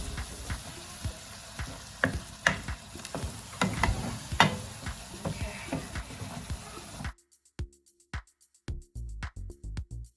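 Ground meat for lasagna cooking in a pot, a close sizzle broken by irregular scraping and clattering stirs, then a sudden hush where only sharp intermittent knocks remain.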